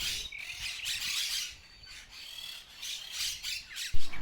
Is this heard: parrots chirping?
yes